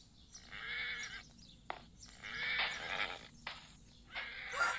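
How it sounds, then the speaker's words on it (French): A horse in Minecraft neighs and whinnies several times in distinct bursts with short gaps between, some hoof clip-clop in between, clear and fairly close with no speech. "Mon cheval principal que je monte le plus souvent."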